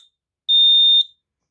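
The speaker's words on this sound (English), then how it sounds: "the Signal 1 safety vocal smoke alarm" A Signal 1 Safety vocal smoke alarm gives a single loud, piercing electronic beep lasting about half a second, sharp and alone against silence.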